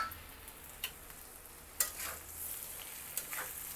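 Spine gourd fry sizzling quietly in a pan, with a few sharp scrapes and clicks of a spatula stirring the pieces over a steady soft frying hiss.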